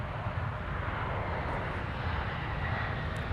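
An airliner descends toward the south parallel runway at Minneapolis–St. Paul airport, a steady broad engine roar heard from a distance without talk.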